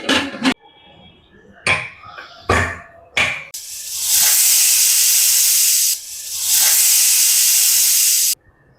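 A pressure cooker cooking beetroot lets off steam: several short sharp hissing bursts, then a long loud whistle-like hiss that dips briefly and returns before cutting off.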